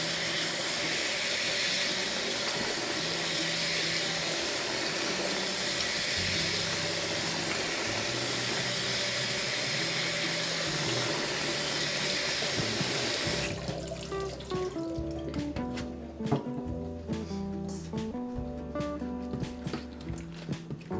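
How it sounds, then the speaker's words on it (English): Cold tap water runs hard into a kitchen sink as cooked rice noodles are rinsed for Vietnamese crab noodle soup, a steady close hiss that cuts off partway, leaving quieter splashes and handling of wet noodles. "Usually you want to do more than one wash, okay? More than one round of taking them out, dumping out the water"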